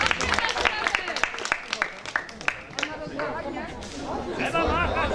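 Audience applause and clapping at Turniej Gmin Krainy Sanu, a Polish municipal contest, with sharp claps and crowd noise mixed under a speaking voice, fading into chatter and talk toward the end.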